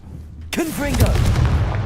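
A Confringo fire spell goes off in the video game Hogwarts Legacy. A shouted voice cuts in, then a sharp booming blast follows and trails into a rough rumble.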